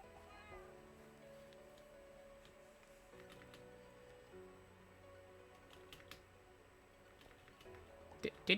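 A cat meows faintly in a quiet room, with soft background hum and a few small clicks, in a Minecraft gaming session.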